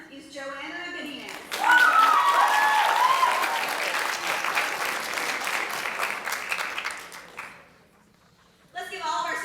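Middle school audience at a 6th grade poetry recitation contest breaking into sustained applause after the winners are announced, loud and dense, fading out before a speaker resumes talking.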